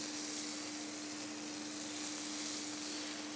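Meat sears in a hot frying pan, the same pan used just before, giving a steady, close sizzling hiss that holds evenly throughout with a faint constant hum beneath.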